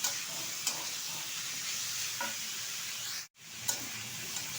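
Long bean and potato curry is stirred in a sizzling pan, with faint scraping strokes at intervals over a steady low frying hiss and a brief dropout near the end.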